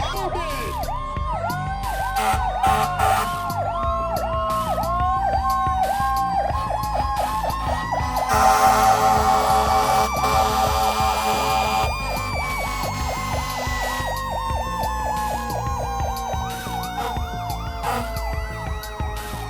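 A fire engine siren from the North Thompsonville Fire Department in a 4th of July parade in Enfield wails loudly and continuously, rising and falling in repeated sweeps with an air-horn-like blast in the middle, close and dominant.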